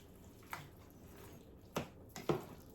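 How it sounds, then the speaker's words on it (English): Sweet and sour chicken and vegetable sauce simmering in a pot on a hot plate, giving a few soft, isolated bubbling pops and gloopy squelches against a low background hiss. "that is bubbling away lovely"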